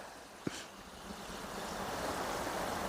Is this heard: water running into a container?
yes